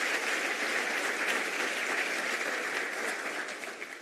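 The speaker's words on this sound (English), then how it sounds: "let's give them applause." Steady applause from a conference audience at a presidential science and technology plenary session, loud and continuous, tapering slightly toward the end.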